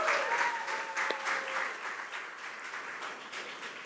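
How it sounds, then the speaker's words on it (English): Applause from the audience during a graduation speech at LEC 2025, a sustained, even patter of many hands clapping that stays fairly quiet and fades slightly toward the end. "So, round of applause to all of those important people."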